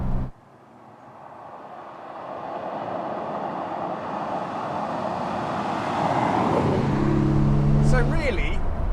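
Road noise from a modified manual-conversion Jaguar V12 car driving over bumps, a steady rising rumble of tyres and engine that grows louder, with a few thumps and rattles near the end.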